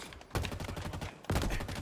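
Heavy gunfire from many players in a multiplayer shooter game, dense overlapping bursts that surge loud, ease off slightly, then swell again.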